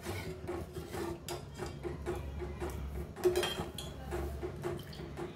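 Metal spoon scraping and clinking against a pot while moong dal with curry leaf tempering is mixed, a series of close, irregular taps and scrapes over a low background hum.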